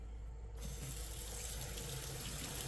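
Water runs steadily from the tap of a homemade DIY water heater, a continuous hissing gush that starts abruptly and holds at a fairly quiet, close level.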